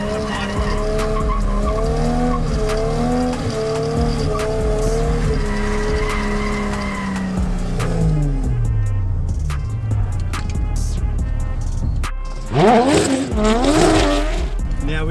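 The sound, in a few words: car drifting into corner with handbrake, tires squealing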